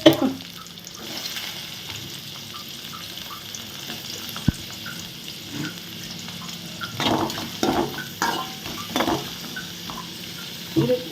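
Curry leaves, onion and green chillies frying in hot oil in a kadai, a low continuous sizzle broken by stirring scrapes and clinks of a spoon against the pan.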